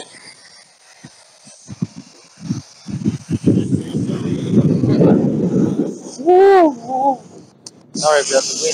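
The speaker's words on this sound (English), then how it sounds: "Sorry about the wind" Wind buffets a microphone outdoors in a cemetery, with low rumbling gusts that swell and fade. A voice speaks over it and rises in pitch near the end.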